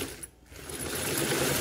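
A sewing machine runs steadily while stitching twine and silk thread into a rug or cushion, with a brief dip near the start before a continuous whirring hum resumes, loud and close, with no talk.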